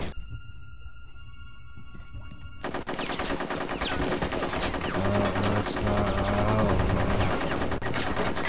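Gunfire in the video game Conker's Bad Fur Day during a war level: a dense rattle of rapid shots rises over a steady game backdrop, loud and continuous through most of the stretch, with no talking.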